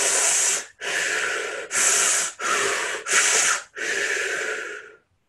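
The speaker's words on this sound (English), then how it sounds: "As I now breathe in as though sucking in through a straw and blowing" Six forceful breath sounds in a row, each a long airy rush like air drawn through a narrow straw and pushed back out, close and loud with brief gaps between them and no talking.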